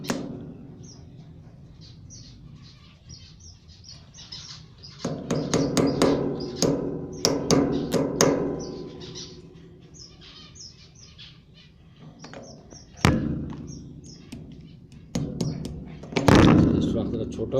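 A nail being hammered into a clay pot lid, sharp metallic taps coming in clusters with gaps between them, and birds chirping faintly in the background.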